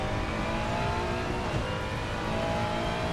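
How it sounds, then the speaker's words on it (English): A turbocharged V6 GT3 race car engine in the racing game Assetto Corsa Competizione at Zandvoort drones steadily at high revs, loud and close, with no talking. "Listen to that turbocharged V6 engine."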